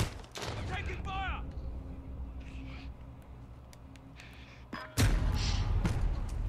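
Gunfire in the video game Call of Duty: Modern Warfare, a few muffled shots and thuds scattered through a busy game soundscape, with a louder burst near the end.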